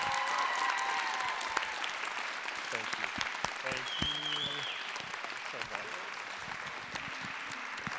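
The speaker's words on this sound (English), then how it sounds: "so we can just give them a round of applause also" Sustained applause from a large audience at a school play fills the whole stretch, a dense steady patter of many hands clapping, with some background voices mixed in.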